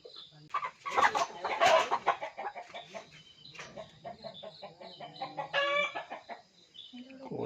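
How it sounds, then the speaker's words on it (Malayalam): Frightened chickens in a coop with a snake inside cluck and squawk in agitated bursts, a loud flurry at first easing into scattered nervous clucks, close by. "കോഴിക്കളൊക്കെ പേടിച്ചിട്ട് മക്കളെ നോക്കണേ"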